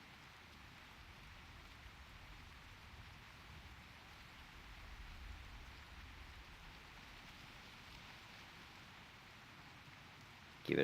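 Steady rainfall in World of Warcraft: Wrath of the Lich King, an even, continuous hiss of rain on surfaces throughout with no talking.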